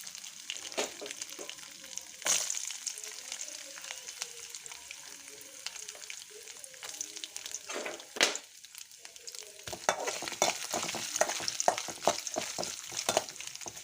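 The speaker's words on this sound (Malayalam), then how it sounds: "കടുക് പൊട്ടി തേങ്ങാക്കൊത്തിട്ട് കൊടുക്കാം." Coconut pieces fry in oil with popping mustard seeds, ginger and garlic for a squid roast: a continuous close crackle broken by sharp pops and spatters, growing busier toward the end, with no voices.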